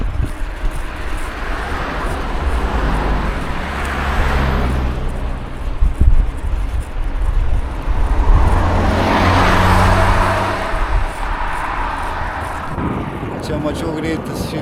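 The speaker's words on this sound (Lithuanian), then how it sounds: "Aš čia automobiliai laksto." Cars rush past on a road along the Neris river in Vilnius. Two louder swells of passing traffic rise and fade over a constant roadway rumble.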